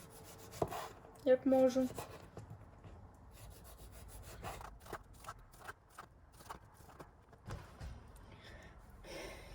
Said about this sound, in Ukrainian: очищаю її трішки від шкірки